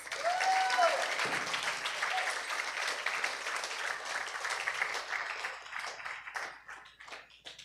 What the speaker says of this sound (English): Let us give them a round of applause.